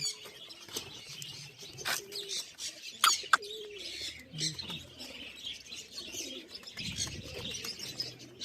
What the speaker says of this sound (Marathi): कसले कबूतर वगैरे आहे तिथं.